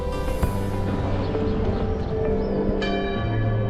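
A church bell rings from a bell tower in Piazza Castello in Turin's historic centre, its sustained tones sounding steadily over the square's background noise.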